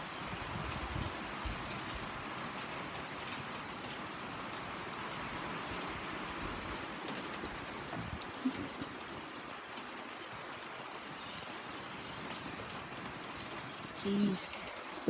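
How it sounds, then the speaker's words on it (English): Heavy rain falls in a steady, dense hiss for the whole stretch, fairly even and close, with a couple of brief louder knocks near the end. "You guys can't really see the rain"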